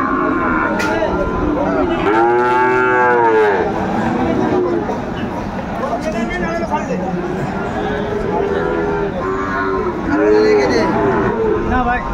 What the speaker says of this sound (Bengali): নাম্বার 1 শাহিওয়ালের বাচ্চা, ষাঁড় বাচ্চা, কোয়ালিটি সম্পন্ন।